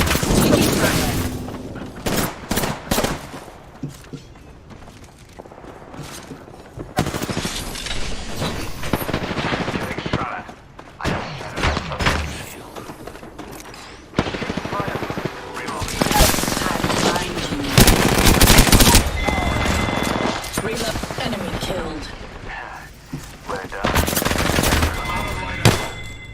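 Dense bursts of automatic gunfire and explosions in a first-person shooter battle royale match played solo ranked, loud and near, with rapid fusillades broken by brief lulls and some talk over the action.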